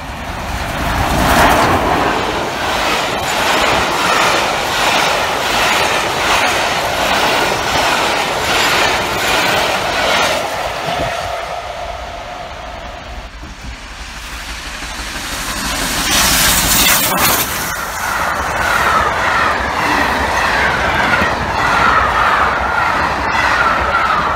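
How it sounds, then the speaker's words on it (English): A steam train departs with continuous loud rumbling and clickety-clack of wheels over rails, swelling and dipping as carriages pass close by, with brief squealing and no talk. "we've got another train departing in"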